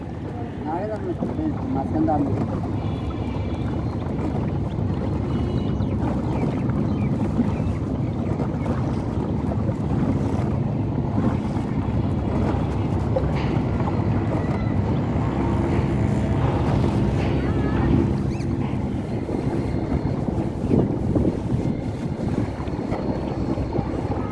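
A trawler boat crossing a river gives a steady, droning engine rumble mixed with wind buffeting the microphone, while people talk intermittently over it throughout.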